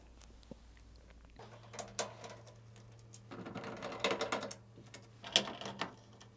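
A 7mm socket is turned to take out nuts beneath the top panel lip of a Hoover washing machine, giving faint irregular metallic clicks and ratcheting rattles in scattered bursts over a low steady hum.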